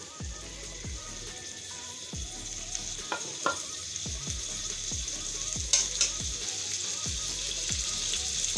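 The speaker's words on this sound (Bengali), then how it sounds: "এখন দিয়ে দেবো তেল, সরিষার তেল। এটাকে একটু ভেজে নেব।" Prawns cut into pieces sizzle in mustard oil in a pan, a steady frying hiss carrying a run of regular knocks and scrapes of stirring, fairly close, with no talking.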